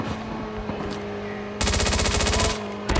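Automatic gunfire in the Call of Duty Mobile battle royale game: a rapid burst of rapid shots starting midway, then a brief second burst at the end, over steady game ambience.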